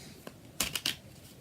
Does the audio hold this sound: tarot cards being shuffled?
yes